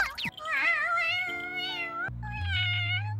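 A voice imitates a cat, producing a string of meows and mewing cries that rise and bend in pitch, close and clear with brief pauses between calls.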